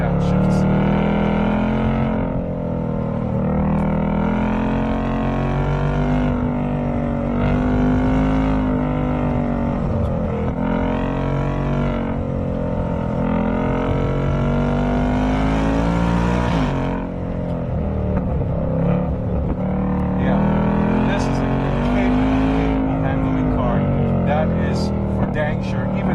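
A sports car engine revs hard toward 7,500 RPM with rising and falling harmonic whines, followed by downshifts, loud and continuous from inside the car, with a voice talking over parts of it.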